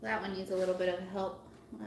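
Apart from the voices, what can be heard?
No everyday noises stand out.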